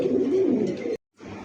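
Pigeons cooing close by, a low throaty coo rolling steadily for about a second, then a brief silence before faint noise resumes.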